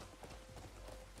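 A horse's hooves clip-clop in a rapid, even rhythm as it is ridden in the video game Crimson Desert, quiet and set within a dense, noisy game soundscape.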